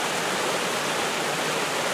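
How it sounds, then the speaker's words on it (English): A free-flowing spring-fed creek rushes steadily near the listener, a dense unbroken wash of water noise with no voices. "Obviously our spring is now a creek and free flowing, which is good."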